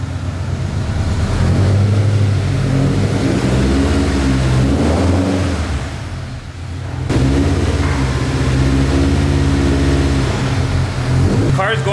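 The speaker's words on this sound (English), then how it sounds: "Car's going through the gears pretty well" Toyota GT86 engine revving to around 2,000 RPM and shifting through the gears, a steady droning engine note that dips and climbs again between gears, with people talking nearby over it.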